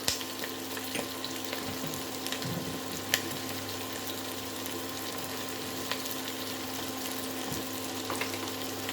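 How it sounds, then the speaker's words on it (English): Onion and meat sweat in coconut oil for a Samoan family dish, giving a soft, steady frying hiss with occasional small crackles and stirring clicks, fairly quiet and without talk. "Just sweating our onion and our meat up."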